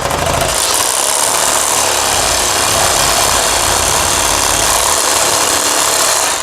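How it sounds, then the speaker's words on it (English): Kutzall carbide power sanding bit on a rotary tool cutting into a wooden shutter, a loud, continuous high-speed grinding whine with gritty rasping, close and alone. "So Kutzall carbide right into this, really go right through it."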